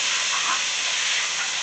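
Canned Rotel tomatoes cooking in a pot give off a steady, loud hiss and sizzle that stays unbroken throughout, close and alone with no talk over it.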